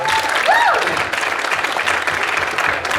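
An audience applauds a teacher, Mr. Kennedy, at a 2016 school presidential debate; steady, dense clapping fills the whole stretch, with a short whistle-like rising tone early on and faint voices mixed in.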